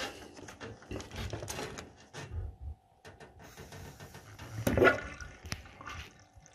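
Water runs out of a Worcester Greenstar 30SI Compact boiler's condensate pipe into a bowl below, an irregular trickling and gurgling with a siphon-like surge and splash near the middle, fairly close and moderately loud.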